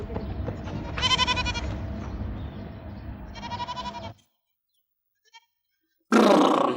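A goat kid bleats in two wavering, nasal calls amid low background noise. A short silence follows, then a sudden loud burst of noise.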